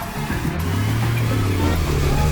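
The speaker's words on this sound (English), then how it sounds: "Now the Grand Vitara all-wheel drive is coming up" Suzuki Grand Vitara with all-wheel drive climbing a rutted off-road hill, its engine straining in a close, steady low growl that rises slightly in pitch across a short burst.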